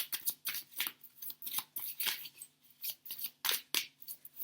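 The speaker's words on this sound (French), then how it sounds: "On va prendre des starseeds, les cartes des starseeds" Starseed oracle cards are handled and drawn from the deck, giving quiet, close, irregular papery swishes and flicks in quick bursts with short pauses between them.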